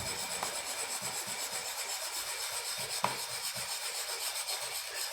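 A lemon rasped steadily against a grater, a continuous gritty scraping of quick, even strokes, close up and alone.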